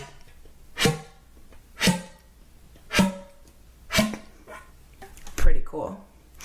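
A flute produces a tongue ram: five or six hollow, percussive pops spaced about a second apart, each a short low thump with a brief tonal ring, heard close with quiet breath between strikes.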